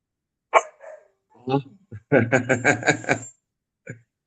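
A dog barks during a church service indoors, a few single yelps followed by a quick close run of sharp barks and one last bark.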